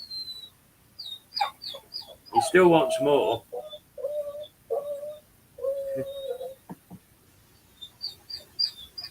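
Pet bird squawking and chirping indoors: sharp bursts of calls and whistles in short clusters, with someone talking between and over them.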